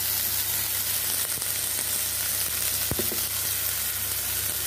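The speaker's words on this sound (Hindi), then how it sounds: "सोयाबीन टा को आमे टिके भाजिबा" Soybean chunks frying in a little hot oil with salt give a steady, close sizzle throughout, with a couple of brief clinks partway through.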